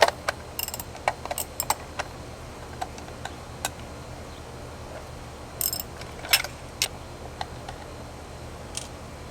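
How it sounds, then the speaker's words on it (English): Small bolts being removed from the plastic shell of an accelerator pedal position sensor on a 2005 Honda Accord: scattered faint ticks and clicks close to the microphone, with brief pauses between them. "Now I'm just going to work on the remaining bolts on here to disassemble this outer shell."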